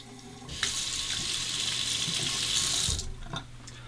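Hot water runs from a bathroom tap while a razor is tempered for shaving, a steady loud hiss of flowing water that starts abruptly, holds for a few seconds, then cuts off.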